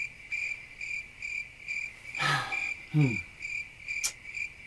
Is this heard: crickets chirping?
yes